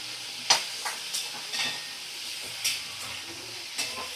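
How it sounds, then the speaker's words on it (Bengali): Spices cooked with ginger paste in a little oil over a low flame produce a soft, continuous sizzle. Several crisp scraping strokes of a spatula against the pan come at irregular intervals, close by and alone. "দিয়ে একদম লো ফ্লেমে রেখে দিয়ে ভালো করে আমি মশলা কষিয়ে নেব"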